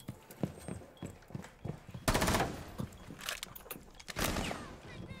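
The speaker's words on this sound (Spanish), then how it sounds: "acaban de disparar al dron" Gunshots fired at a drone in the Rainbow Six Siege video game, a string of sharp single cracks and then two louder bursts of rapid fire, close and punchy with brief gaps between.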